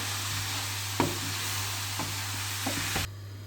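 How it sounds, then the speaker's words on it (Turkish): Nazik kebab topping mixture with frozen tomatoes being stirred in a pan, a steady background sizzle broken by a few soft scraping and tapping strokes around the one-second and three-second marks, ending abruptly with no voices. "Şöyle iyice karıştırıyoruz"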